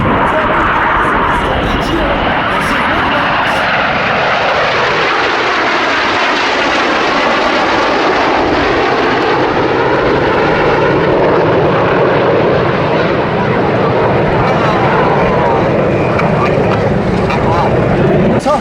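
Propeller aircraft flying in formation at the Duxford air show give a loud, continuous, close engine roar that swells and shifts in pitch as they pass, with a faint voice under it.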